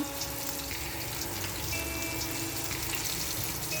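Pomfret fish fry in a pan with a continuous loud hiss of sizzling oil. One fish is flipped partway through, and no voices are heard.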